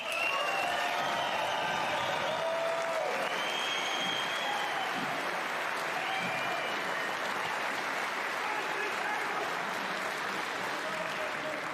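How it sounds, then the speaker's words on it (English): A large crowd at Waterfront Hall applauds the finalists of a professional snooker final, a dense, steady roar of clapping that fills the whole stretch with scattered cheers and no break. "Please put your hands together once again for our finalists"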